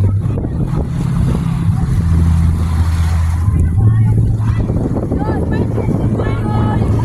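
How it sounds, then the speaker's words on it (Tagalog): Strong wind at the sea roars and buffets the microphone in a low, constant rumble, while voices talk over it throughout. "Grabe ka hangin."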